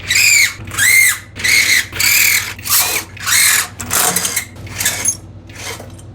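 A power tool removing eight cylinder head bolts on a riding mower, loud close bursts of whirring and squealing, roughly eight separate runs with short pauses between them and growing rougher toward the end.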